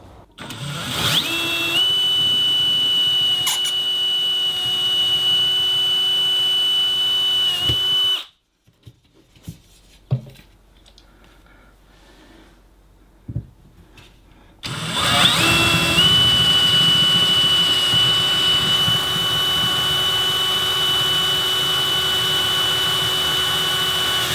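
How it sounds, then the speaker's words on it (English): A power drill with a 3/16 bit whines steadily and loudly while boring out the rivets on an RV window sash frame, stopping for several seconds of quiet handling clatter before the high drone resumes. "We're going to do this using a 3/16 drill bit and drilling through each of these rivets."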